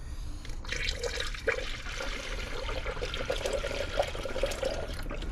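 Coolant pours through a no-spill filling funnel into a car radiator, making a continuous gurgling, trickling liquid sound at close range with small bubbling pops throughout.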